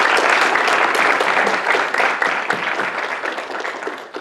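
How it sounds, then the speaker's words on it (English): A large audience claps loudly and steadily for a panel of five alumni at an early-career event, a dense, sustained round of applause that tapers slightly toward the end. "So let's give them a big round of applause."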